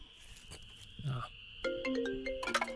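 A phone ringtone sounds for an incoming call from an unknown number, a bright melodic electronic tune that rises in the latter half of the clip after some brief indistinct sounds.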